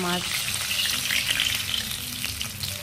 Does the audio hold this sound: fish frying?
yes